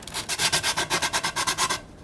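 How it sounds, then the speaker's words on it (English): Sandpaper scrubbing back and forth in quick, even strokes, about a dozen rasping passes close up before stopping. "You can use sanding paper again to kind of go around the edges"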